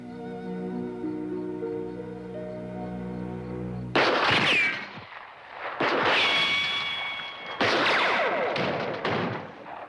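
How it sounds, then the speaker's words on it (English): In a Western film, a steady tonal drone gives way to three loud, sharp gunshot blasts, each followed by a ringing, whistling tail that fades out. "It was a gunshot. I heard it."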